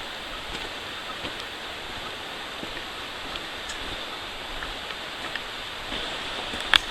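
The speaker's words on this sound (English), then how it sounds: "another brook crossing" A brook runs over rocks where a hiking trail crosses it, a steady, moderately loud rushing wash of water with small splashes and a brief sharp tap near the end.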